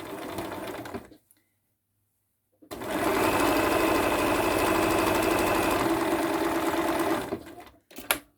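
A sewing machine stitches through fabric for a potholder, running in a steady, close mechanical whir for several seconds after a short stop, then a quick final burst.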